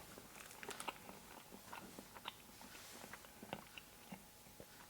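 Heavily salted peanuts from an Estonian military ration being chewed by the handful, close-up wet crunching and biting in irregular bursts, with no talk.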